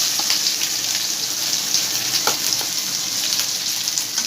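Onions frying in a pan for an Odia-style fish curry, a dense, continuous sizzle and crackle with occasional sharper pops, heard close and steady without any speech.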